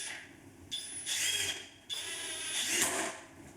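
A Flex 1/4 inch impact driver drives screws in two close, loud bursts, each a buzzing whir with rapid hammering that stops briefly between them.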